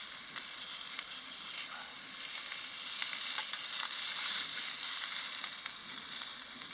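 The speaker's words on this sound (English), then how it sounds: "Now while I'm cooking these here sausages," Sausages sizzle and spit steadily in a pan on a camp stove during wild camping in Scotland, a constant close frying hiss with small crackles and no talk.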